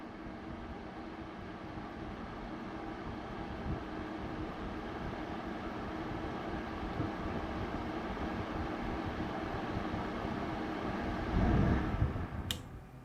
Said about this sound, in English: And then now let's turn up the regular fan to high speed.